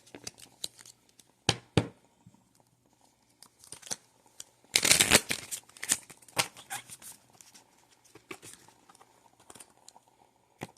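Tarot cards being shuffled and handled, with scattered riffling and crinkling bursts and a denser flurry of card flicks midway, close and fairly quiet with no talking.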